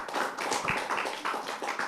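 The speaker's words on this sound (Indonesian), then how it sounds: "Kita kasih tepuk tangan untuk Aisyah" Applause from children at a Quran learning class, a short burst of uneven, fairly close hand claps carrying on steadily without any talking.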